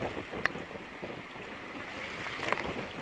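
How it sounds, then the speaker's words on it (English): A racing sailboat in the Volvo Ocean Race surfs down huge ocean waves at around 25 knots, with a steady roar of wind and rushing water and a couple of brief knocks. "we're just surfing these huge waves. Like we're going down one now, right now"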